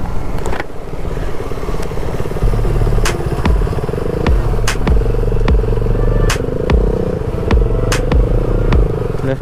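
Motorcycle engine running steadily while being ridden on a hill road around Yercaud, a continuous low rumble with repeated sharp clattering knocks from the road surface, fairly loud and close, with no talk.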